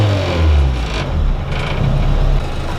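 Honda Civic EG6 SiR2 engine revving hard from inside the car, a loud steady low drone with a rising pitch as it climbs into VTEC, continuous and unbroken with no talking.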